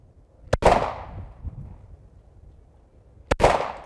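Two sharp gunshot-like blasts from a weapon firing in a video game, each a loud crack with a decaying tail, spaced about three seconds apart with quiet in between.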